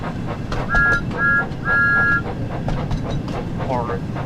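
A person vocally imitates a moving engine from Thomas and Friends: Wonders of Sodor, with three sustained whistle-like tones over a steady rumbling chuff, near and moderately loud, with background game sounds.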